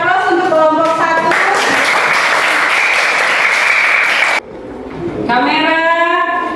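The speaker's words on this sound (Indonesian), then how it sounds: "Kita berikan aplaus untuk kelompok 1." A classroom group gives a burst of clapping and applause for the first presenting team, dense and loud for about three seconds, framed by voices talking before and after.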